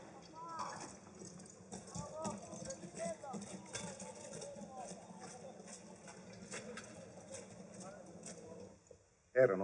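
Hooves of a pair of horses drawing a two-horse carriage clip-clop in a steady rhythm throughout, with voices and birdsong in the background.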